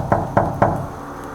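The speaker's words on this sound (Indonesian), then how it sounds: "Sekitar jam 11 malam, pintu depannya tiba-tiba diketuk." Three firm knocks on a front door late at night, evenly spaced and close by, with nothing else heard.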